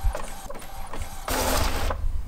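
A sublimation printer printing an image whirs and clicks mechanically, rising to a louder sustained carriage sweep before settling back, close by with no talk.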